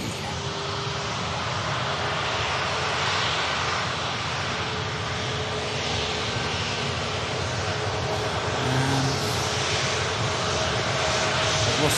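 Steady roar of aircraft engines at Manchester Airport, a broad continuous rumble that swells slightly toward the end, heard from a distance outdoors with no voices over it.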